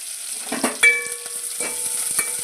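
Green chillies, curry leaves and onions sizzle in hot oil in a pan, a steady close frying hiss broken by a few clinks and scrapes of stirring.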